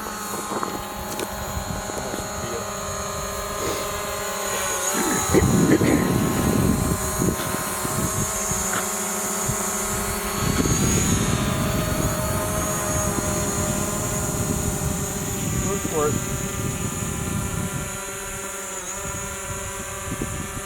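A DJI Mavic Pro drone flies outdoors, its steady propeller whine holding a constant pitch throughout, moderately loud and swelling slightly at times, with no talk over it.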